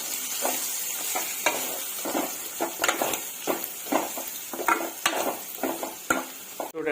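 Fried fish being stirred with chili powder in a pan for a Telugu dried-fish curry, with steady sizzling and repeated scraping, clattering strokes of a spoon against the metal pan, close and fairly loud throughout.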